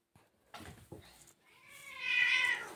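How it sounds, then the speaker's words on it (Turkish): Cats yowl and meow as if fighting: a couple of short cries, then a louder drawn-out wailing meow that rises and lingers near the end. No one talks over it. "kediler kavga ediyor"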